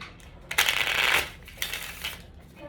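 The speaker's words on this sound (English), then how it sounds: "One more shuffle." Tarot cards riffle-shuffled close by in a quiet room, one dense burst of papery flutter followed by a softer second ripple.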